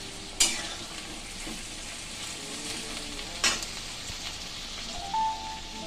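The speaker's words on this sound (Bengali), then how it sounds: "পেঁয়াজটা দেখুন অল্প ভাজা হতেই আমি এর মধ্যে দিয়ে দিচ্ছি কুচিয়ে রাখা টমেটো।" Chopped tomato sizzling with lightly fried onion in a pan, a steady soft frying hiss with a few sharp stirring scrapes and clinks, close by and with no talking.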